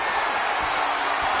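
Roaring arena crowd noise at a wrestling show in WWE 2K26, a steady, loud, broadband wash with faint thuds underneath throughout.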